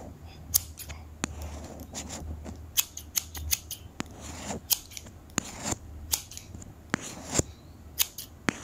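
Scissors snip repeatedly in a close, quiet setting, sharp crisp cuts arriving every half second or so, interleaved with softer pulling rustles in a pull-and-cut rhythm.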